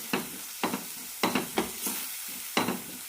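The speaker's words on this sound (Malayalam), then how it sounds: "ഇനി ഇതിലേക്ക് അര ടീസ്പൂൺ ഗരം മസാല കൂടി ഇടാം നന്നായി മിക്സ് ചെയ്യാം" A spoon stirring half a teaspoon of garam masala into a sizzling chickpea curry masala in a pan, with several distinct scraping strokes over a steady low fry, close and alone.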